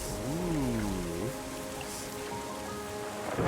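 Steady rain hiss from the PC game Terra Nil, a relaxing reverse city builder, runs throughout alongside a tonal, sweeping game music bed, with no talk.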